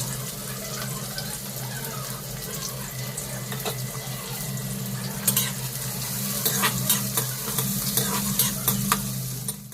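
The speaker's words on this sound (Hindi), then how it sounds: "उसके बाद यहाँ पर प्याज को फ्राई कर लेते हैं।" Onions frying in oil in a home kitchen pan while a veg masala biryani is prepared, a steady close sizzle with occasional stirring clatter and brief running tap water, no talking.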